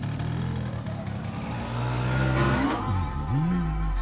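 A motor vehicle engine, meant as an auto rickshaw, idles and then revs as it pulls away close by, with a rising whine near the end; no speech.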